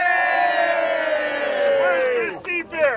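A crowd at the Seafair Pirates key ceremony whoops and cheers loudly in a long rising and falling shout, then breaks into shorter cries near the end.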